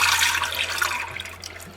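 Whole full-fat milk, 1.5 litres, poured into a pressure cooker on the stove, a loud gushing stream that gradually eases and thins toward the end, with no talking.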